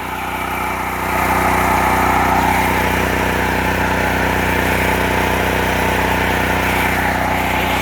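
A portable generator runs under load in snowy outdoor conditions after a cold start, its steady engine drone rising in level about a second in and then holding a constant, close, loud hum.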